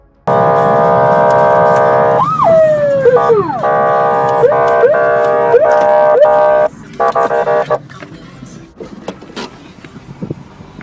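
A loud police siren wails continuously, sweeping up and down with sharp yelps partway through, then cuts off, leaving street noise and scattered thumps.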